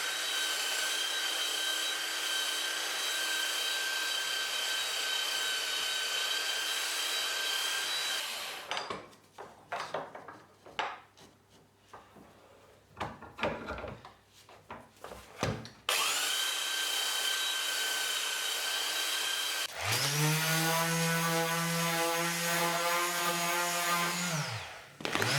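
Power sanders work wooden sculpture pieces, a belt sander and an orbital sander with 320-grit finish, whining steadily for long loud stretches broken by a middle gap of scattered knocks and handling, then a final pitched run that winds up and down.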